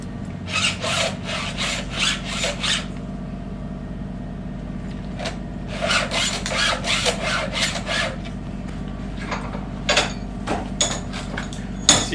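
A STIHL MS 261 chainsaw chain is sharpened by hand with files: close rhythmic rasping strokes arrive in quick bursts, separated by pauses, with no talking.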